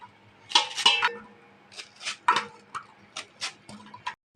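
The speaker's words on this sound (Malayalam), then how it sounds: "ചെറുതായിട്ട് അങ്ങ് അരിയുക" A knife finely chops taro stems on a cutting board in crisp, close taps that come in uneven clusters of several cuts with short pauses between, heard alone without speech.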